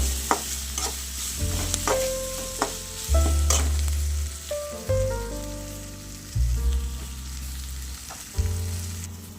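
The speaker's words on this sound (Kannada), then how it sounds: "ಶುಂಠಿ ಬೆಳ್ಳುಳ್ಳಿ ಪೇಸ್ಟ್ ಹಾಕಿದ್ದೀನಿ. ಈಗ ರೋಸ್ಟ್ ಮಾಡ್ಕೋಬೇಕು" Ginger garlic paste roasting in a pan, stirred with steady sizzling frying and repeated scraping strokes that come in bursts, close and fairly loud, with no voices.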